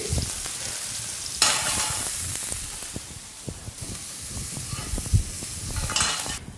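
Leeks sweating in a pan for a dish of warm oysters with leeks, a steady frying sizzle with stirring scrapes, loud and close, with no talk.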